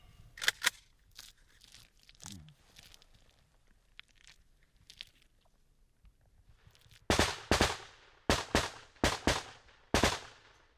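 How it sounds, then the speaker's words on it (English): Outgoing machine gun fire comes from a Ukrainian front-line trench position. Faint scattered knocks come first, then a series of loud, sharp, close bursts fire in quick succession with short pauses between them. No one speaks. "The outgoing machine gun fire from the Ukrainians is aimed at suppressing the Russians so they don't fire back."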